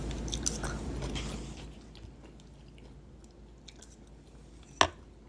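Someone bites and chews fresh crunchy food served with grilled chicken, close crisp crunches at first that fade to quieter chewing, ending with one sharp crunch.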